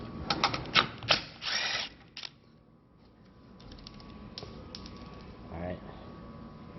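A power screwdriver whirs in short bursts while removing screws during an oil change on a 2022 Honda Civic, with clicks and handling noises between spins, fairly faint and close.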